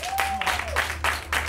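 A studio audience on the Spanish reality debate show El Conquis 2018 gives choppy bursts of applause, with a clear whistle rising over the first half.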